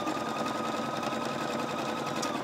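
A sewing machine runs steadily through a satin stitch, its fast, even whirring motor and needle chatter continuing unbroken at close range for the whole stretch with no talking.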